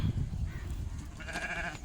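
Sheep bleating in the early morning as a flock is roused and led to the fields, one clear nearby bleat rising in the second half over low outdoor rumble.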